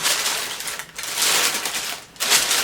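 Tissue paper is pulled from a Balenciaga shoe box, making loud close crinkling and rustling in bursts, with short pauses between the handfuls.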